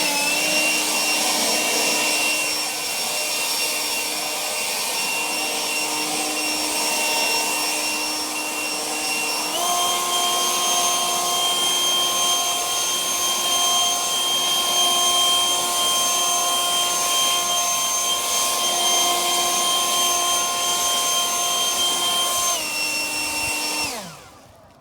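An Echo 56V battery leaf blower running on turbo gives a loud, steady, high-pitched whine with a constant airy rush for about twenty-five seconds. The pitch steps up slightly partway through, then the motor cuts off sharply at the end.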